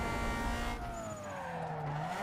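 Tire squeal from a Toyota Corolla skidding in the racing game Need for Speed Underground 2, a loud engine drone with sliding pitch sweeps running continuously throughout.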